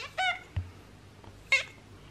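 A mostly white house cat with a little orange meows twice, short and fairly close, with a soft thump between the calls and no talking.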